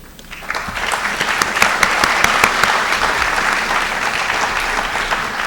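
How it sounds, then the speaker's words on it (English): Applause from the audience at an IT modernization all-hands meeting swells quickly into steady, dense clapping that carries on for several seconds, close and loud, with no talk over it. "So you all deserve a round of applause for what you do every day."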